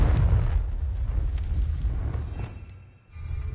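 Fiery Confringo spell blast in the Hogwarts Legacy game, a loud rumbling explosion with a deep booming low end that swells at once, fades briefly near the end, then surges again.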